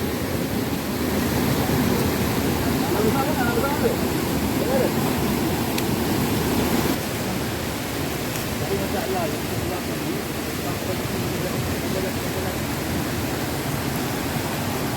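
Steady, loud rushing of a mountain river being crossed on a hike up Gunung Korbu and Gayong, a dense unbroken wash of water noise close by throughout, with faint voices buried underneath.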